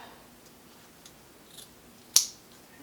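Small scissors snipping off sewing threads in a quiet room: a few faint ticks followed by one sharp, close snip near the end.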